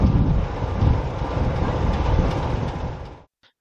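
Heritage railway train on the North Norfolk Railway during a mixed traction gala, heard from aboard a carriage: loud continuous low rumble and rattle with wind noise for about three seconds, then cutting out abruptly.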